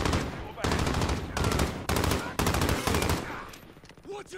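Rapid automatic gunfire in a multiplayer shooter game, several loud sustained bursts close up separated by brief gaps, with faint game sounds trailing at the end.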